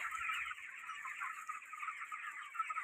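Small broiler chickens in a farm shed clucking and chirping continuously, a dense flock chorus at moderate distance with no talk.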